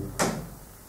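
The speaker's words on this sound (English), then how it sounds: "Oh, that creaking then. What was over there? The cupboard." Cupboard door making a single short, creaky scrape, fairly close and loud against a hushed room during a night-time ghost hunt at Rougham Airfield.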